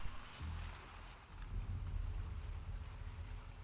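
Steady rain falls during a storm in the video game The Last of Us Part II, a faint, even hiss of rainfall with a low rumble underneath and no voices.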